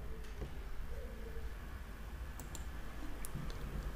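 Light computer mouse clicks, a few sharp ticks spaced irregularly over a low steady room hum, heard while a Chrome browser extension is being added and installed.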